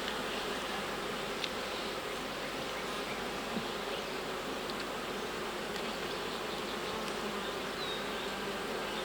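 Honeybees in an alpine-style hive, with a frame of brood exposed, give off a steady, dense buzzing swarm hum that stays close and even throughout, with no talk over it.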